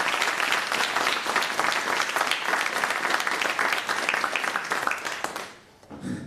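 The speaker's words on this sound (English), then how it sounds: "Big round of applause for those awesome people." An audience at a startup pitch competition breaks into sustained applause, dense clapping from a sizable crowd that holds steady for about five seconds and then fades out, with faint talk afterward.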